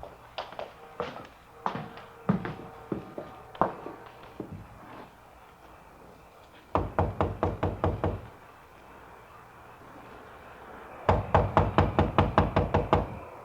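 Hard knuckle raps on a rooming house door, first in scattered knocks and then in two fast, loud bursts of about eight blows each, close and with no voices over them.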